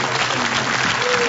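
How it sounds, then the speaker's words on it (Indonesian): A studio audience on an Indonesian TV comedy show claps in a brief, dense burst of applause at steady loudness. "beri tepuk tangan dulu buat Melani di kantin."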